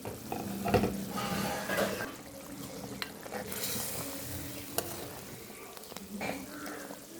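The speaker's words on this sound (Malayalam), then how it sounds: "നമ്മുടെ അരപ്പെല്ലാം തിളച്ചിട്ടുണ്ട്." A pot of fish curry with a ground coconut masala paste and small tuna pieces boils and bubbles, with occasional stirring clinks and scrapes at a moderate, close level.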